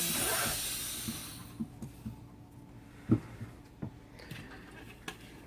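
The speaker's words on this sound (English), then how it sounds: "So you're releasing your vacuum." A vacuum bell vents after wax degassing with a brief broadband hiss that fades within about a second and a half, leaving quiet room tone broken by scattered small clicks and taps.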